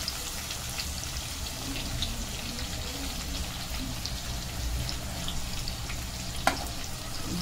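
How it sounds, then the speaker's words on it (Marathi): Onions frying in a pan for prawn rice give off a steady, even sizzle like light rain, continuous and close, with one brief clink near the end and no talk. "चांगला परतून घेऊया आपण कांदा"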